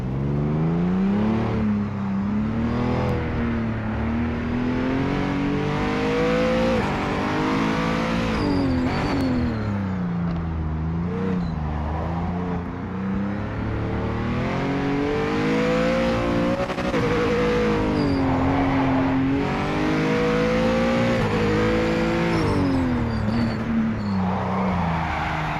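A race car in Project Motor Racing on PS5, running on cold tyres, drones loudly and close, its engine note rising and falling through gear changes and braking along the track for a long stretch.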